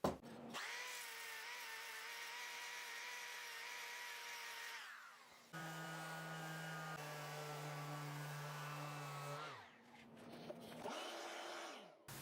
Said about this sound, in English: I'm going to use my disc sander with a 60 grit.